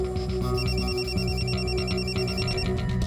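A telephone rings with a repeating electronic trill, steady and clear, filling the room with no one speaking.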